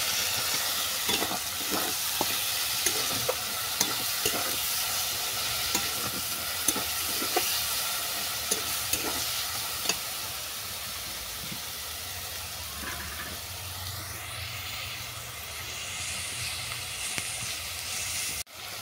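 Ol saag greens are tipped into a pan of spiced masala and stirred, a continuous close sizzle punctuated by regular scraping and clacking strokes, swelling into louder frying near the end.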